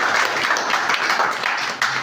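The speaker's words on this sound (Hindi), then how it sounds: "चलिए अपने भाई बहन के लिए जोरदार ताली बजाइए।" An audience at a motivational talk claps loudly and continuously, a dense wash of applause with no pause across the whole moment.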